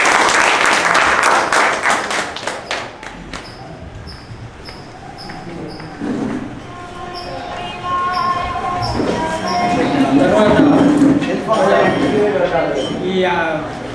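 Loud clapping opens the recording at a community meeting as a president is welcomed onto the stage. The clapping fades after a few seconds, and amplified speech and thumps follow.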